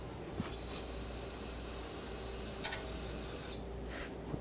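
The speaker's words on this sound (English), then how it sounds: "clean that up with some brake parts cleaner" Aerosol brake parts cleaner sprayed onto a brake caliper of a 2009-2013 BMW 328i xDrive, a loud close continuous hiss with brief spurts, no talking.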